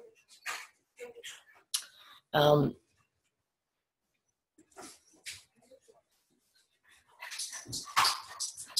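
Dogs whimper and give short yips, with one louder bark burst standing out between quieter whines, heard near but fairly soft, interspersed with someone talking.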